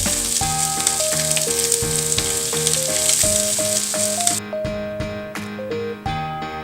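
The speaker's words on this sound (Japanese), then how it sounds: "やや強火で両面をしっかりこんがり焼いて旨味を閉じ込めます。" Chicken wing mids sear in a pan over fairly high heat for a winter melon soup, a loud hissing sizzle under background music that drops away partway through.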